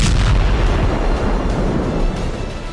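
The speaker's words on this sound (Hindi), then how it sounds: "हिजबुल्लाह ने बुरकान को वोल्केनो नाम दिया है, क्योंकि ये टारगेट पर ज्वालामुखी की तरह फटती है" Burkan (Volcano) rocket blast on a target, a loud rumbling boom decaying into a continuous roar and crackle over a few seconds, with no voices.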